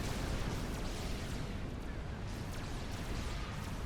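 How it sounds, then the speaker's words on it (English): Armored units fire pulse cannons in the Supreme Commander video game, producing a dense, continuous roar of blasts and booms. The battle noise is steady and heavy throughout. "Dreadnoughts and big chunky armored things blasting away each other with like pulse cannons and stuff."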